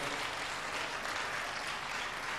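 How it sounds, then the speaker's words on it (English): Students at an education conference applaud, a dense, even wash of clapping that holds steady and fairly loud with no voices on top. "All the students in here, please clap for our colleagues."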